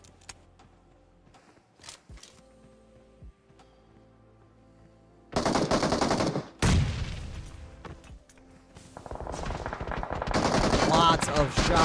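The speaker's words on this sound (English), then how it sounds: "Lots of shots popping out right now." Gunfire in an online video game tournament quarterfinal match: faint scattered shots first, then loud bursts of rapid automatic fire and booms that build into sustained heavy shooting near the end.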